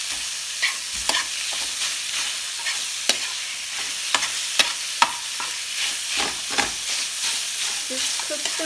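Meat for a Lao ramen noodle stir fry sizzles steadily in a hot pan, broken by a series of sharp stirring clacks and scrapes from a utensil, close and loud with no talking.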